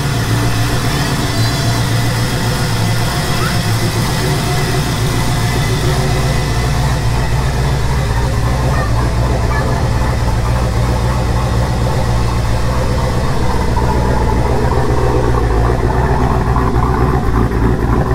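A Nissan 300ZX with an LS engine idles after injector tuning, a loud, steady, rumbling low engine note that runs without a break at close range with no voices.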